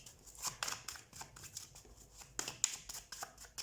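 Tarot cards being shuffled by hand, soft papery riffles and flicks in quiet, irregular bursts close up.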